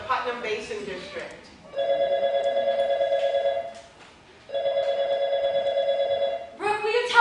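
Two long electronic telephone rings with a steady warbling tone sound clearly, separated by a pause, during a school spelling bee, with people talking before the first ring and again after the second.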